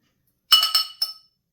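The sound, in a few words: knife pressed against the side of a glass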